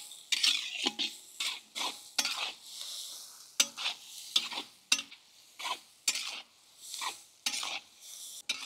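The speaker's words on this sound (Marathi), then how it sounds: "10 ते 15 मिनिटं आपण ग्रेव्हीचा मसाला असाच परतून घेऊ व्यवस्थित" Tomato and onion gravy masala for a Maharashtrian fish curry is sautéed in a pan, a rhythmic series of about a dozen scraping stirs over a soft sizzle, close and clear.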